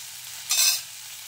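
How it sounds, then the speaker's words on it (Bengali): Okra frying in oil while being stirred in a pan, a brief soft burst of sizzling and scraping that swells and fades within a second, fairly quiet. "ভেন্ডিগুলোকে একটু লালচে করে ভেজে নিতে হবে"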